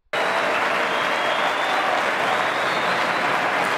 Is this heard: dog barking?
no